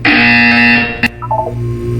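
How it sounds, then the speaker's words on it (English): A harsh, loud electronic buzzer tone in Portal 2 holds steady for about a second, then cuts off with a click, followed by a few short, softer beeping notes. "You will hear a buzzer."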